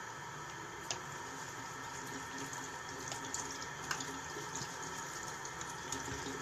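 Tap water runs steadily into a sink while a makeup brush and spatula are rinsed, a continuous close hiss with a few faint clinks.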